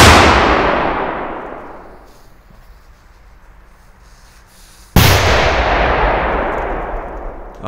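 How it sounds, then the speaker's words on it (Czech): A Super Cobra 7 firecracker (50 g, category F4) goes off as one sharp, loud blast with a long decaying echo, followed a few seconds later by a second loud bang that also rings out and fades. "na závěr tady máme petardu Super Cobra 7, 50 gramů"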